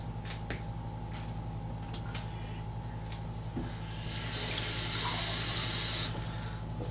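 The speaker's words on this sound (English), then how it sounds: "that is water right straight out of my sink" Water runs from a sink tap into a cup in a soft, steady stream, swelling into a louder hiss midway, over a constant low hum.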